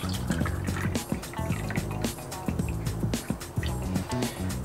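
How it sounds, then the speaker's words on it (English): Hot, fresh coffee poured into a pumpkin spice Irish coffee with pumpkin spice liqueur and Irish cream, a close, gurgling splash with dripping and filling sounds as the glass fills. "top that off with some hot, fresh coffee"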